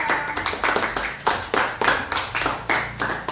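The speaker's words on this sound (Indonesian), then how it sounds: "Kita berikan aplaus untuk kelompok 2." Classroom applause for a group presentation: a small group clapping in quick, uneven bursts close by, loud and steady for a few seconds with no voices over it.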